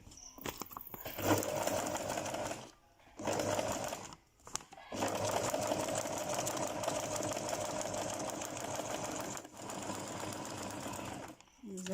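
Sewing machine running steadily as it stitches a seam, with short pauses between bursts, close and clear under a voice talking.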